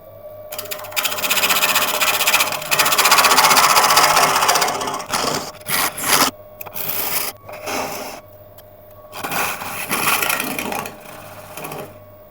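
A wood lathe turns grass tree wood while a tool cuts a tenon, giving a harsh, whirring scrape in uneven bursts. Louder cutting passes alternate with short quiet gaps as the tool is lifted away.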